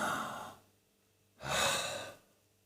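Controlled, relaxed breathing while lying down: one slow breath fades out, then after a short pause a second close, airy breath rises and tapers off like a gentle sigh.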